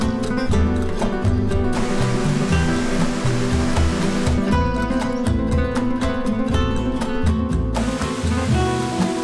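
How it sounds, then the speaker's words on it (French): Loud, steady rushing of a waterfall flowing through a village in northern Spain fills the whole stretch without pause, with musical tones layered over the roar. "une cascade traverse le village de part en part"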